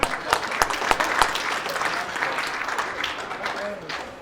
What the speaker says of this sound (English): Applause for Steve.